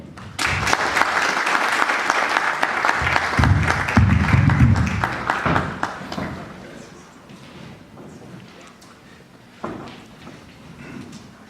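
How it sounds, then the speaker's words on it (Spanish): An audience at a Latin American sociology congress event gives a strong round of applause to welcome a dean, loud and steady at first, then thinning into scattered claps and fading toward the end. "para quien pedimos un fuerte aplauso."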